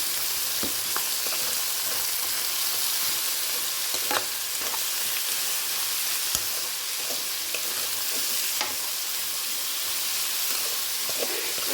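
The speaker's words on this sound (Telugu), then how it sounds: "చక్కగా సొరకాయ ముక్కలు కూడా వేసేసి మూత పెట్టి మగ్గ పెట్టుకోవాలి ముందు" Bottle gourd pieces cook under a lid in a pan, giving a steady, close sizzling hiss with occasional small pops and clicks throughout, and no talking.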